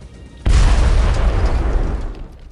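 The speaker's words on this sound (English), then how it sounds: "You can see that this is an area you can blow up and get out of." An explosion blows open a wall in the video game Red Faction 2, one sudden loud boom that rolls into a long rumbling debris wash and fades over about two seconds.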